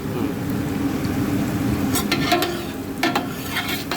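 Bolognese sauce for lasagna and pasta frying in a pan while being stirred, a steady sizzle under scraping spoon strokes that come in a few quick bursts toward the end.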